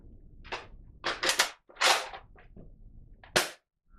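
A Nerf Rival Boba Fett Apollo blaster fired in quick succession, sharp close snaps spaced irregularly across a few seconds with mechanical clacks between shots and a short silence before the last.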